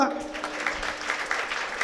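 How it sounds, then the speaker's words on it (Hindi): Audience at a Jain religious ceremony in Krishna Nagar claps on request, a steady patter of many hands filling the hall, moderately loud and continuous for the short stretch. "ताली बजाओ"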